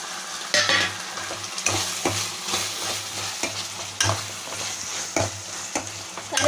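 Tomatoes added after ginger paste fry in oil in a pan for a gongura fish curry, a continuous sizzle broken by regular scraping strokes of a spoon stirring them, close and fairly loud.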